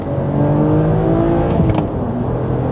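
A BMW 130i hatchback engine revs sharply during a rev-matched gearshift, a loud, steady, close-up engine note with a brief blip in the middle.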